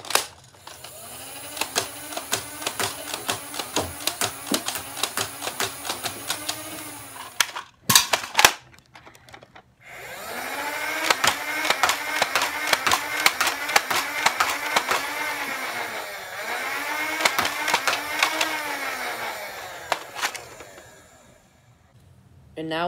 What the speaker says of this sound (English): I will be firing with the included green Adventure Force wafflehead darts.